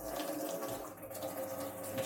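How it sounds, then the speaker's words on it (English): Hot water tap running from a Vaillant F70 boiler setup, a steady rushing flow into a sink, close and continuous throughout with no speech. "I'm gonna run a hot tap."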